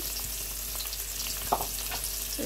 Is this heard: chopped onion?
yes